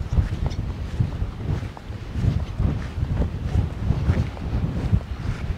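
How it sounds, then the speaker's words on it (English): Steady wind buffeting a microphone outdoors at a lighthouse on Australia's east coast, with gusty low rumbles rising and falling throughout and no voices. "Bit windy up here."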